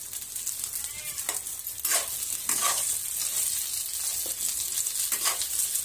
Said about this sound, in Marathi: पावशेर बटाटे असतील हे छानपैकी असं परतून घ्यायचं